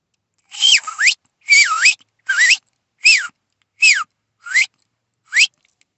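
Seven short, swooping whistles come from a person whistling without fingers while biting the tongue, each note bending up or down, loud and close in an otherwise silent room.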